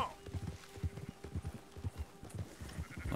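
Horse hooves in Red Dead Redemption 2 clip-clop at a steady walking rhythm, rather faint, with someone talking over them.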